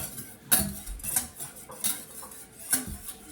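Biscotti dough is mixed in a bowl with a utensil, producing close, irregular clinks and scrapes with a few sharper knocks against the bowl, no talking.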